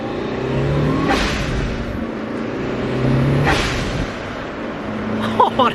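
Evo 8 with an eBay blow-off valve revving, a steady engine drone rising in surges around one and three and a half seconds, ending in short sharp hissy bursts of the valve venting, with voices faintly mixed in.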